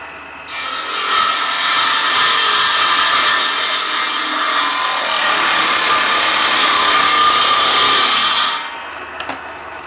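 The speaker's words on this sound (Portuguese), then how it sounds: "Vou ligar a máquina e vamos fazer o último corte." Table saw making the final cut through a wooden box, a loud continuous whine of the blade in the wood lasting about eight seconds before it stops, with no talk.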